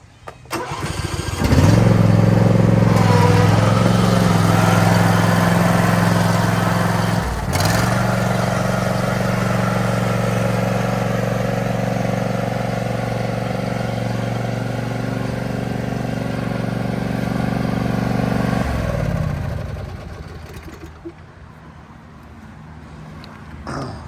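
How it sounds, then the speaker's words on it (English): A John Deere riding mower engine starts and runs steadily for about seventeen seconds, a loud, continuous rumble with a brief dip, then fades as the machine drives away. "I'm going to get back on my trusty John Deere and run over to the next site"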